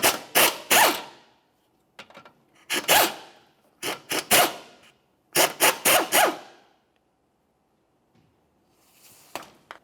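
Two 13mm nuts come off the control arm studs of a 2001-2005 Ford Explorer Sport Trac as a ratchet clicks in several quick bursts with silent pauses between, close up, ending with a faint final bit of turning.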